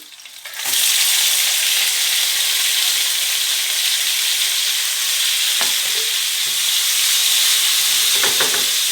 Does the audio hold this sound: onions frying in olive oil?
yes